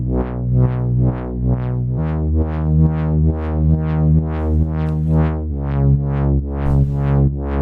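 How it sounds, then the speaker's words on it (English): A low drone from a Moog Subsequent 37 synthesizer sustains continuously, with a rich harmonic buzz pulsing in a steady repeating rhythm and shifting pitch partway through, loud and alone. "So this is a drone from the Subsequent 37, the Moog."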